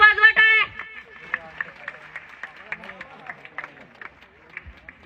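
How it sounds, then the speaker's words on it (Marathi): At a Shivrajyabhishek celebration at Shri Shivaji Mahavidyalaya college in Akot, a crowd claps, opening with a loud burst of voices and then settling into scattered, uneven handclaps that continue at moderate volume. "जोरात वाजवा टाळ्या."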